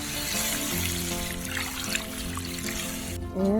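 Water poured into a cooking pot of spicy village chicken trickles and splashes steadily at low level for a few seconds, with a brief louder clatter at the end.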